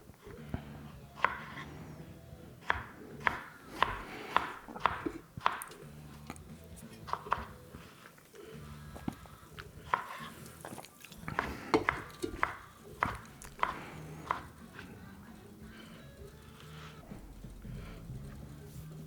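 Knife chopping vegetables roughly on a cutting board for chicken tikka masala, a steady run of sharp, close knocks in irregular bursts with short pauses, mid-level and heard without speech over it.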